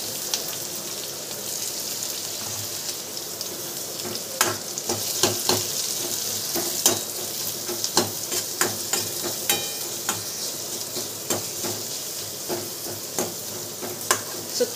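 Onion, chili and red masala fry in hot oil in a kadai, giving a steady close sizzle broken by frequent clinks and scrapes of a spoon stirring the pan.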